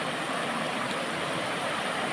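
Mountain spring stream at a resort flowing steadily, a continuous broadband rush of water that stays even and close throughout with no voices.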